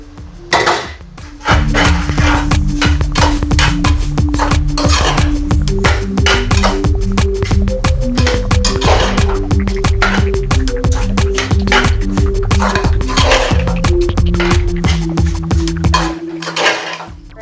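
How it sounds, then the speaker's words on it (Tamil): A spoon scrapes and clanks rhythmically against a metal pot while fried soy chunks are stirred into biryani, a rapid, loud, steady series of metallic knocks and rings lasting throughout, close by. "இப்போ நம்ம ஃப்ரை பண்ணி வச்ச சோயா பீன்ஸ் இதில் போட்டு மிக்ஸ் பண்ணிக்கலாம்."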